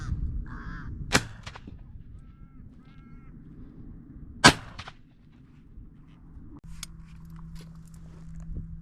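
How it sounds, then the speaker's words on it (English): Crows cawing overhead in a field during a crow shoot, harsh caws coming in short bursts at moderate distance, broken by two sharp, loud shotgun blasts from a Miroku MK70 over a quiet outdoor background. "Oh, there's a lot of birds in the air"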